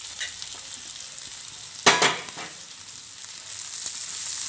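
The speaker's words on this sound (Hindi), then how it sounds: "अब हम इसको फ्राई होने देंगे।" Okra (bhindi) fries in a pan with a squeeze of lemon, a soft, continuous sizzle broken by one sharp, louder hiss burst near the middle before it settles back to a gentle crackle.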